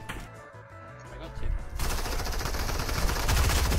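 Rapid, dense bursts from a mythic drum gun in Fortnite, loud and sustained through the second half after a quieter stretch of game ambience.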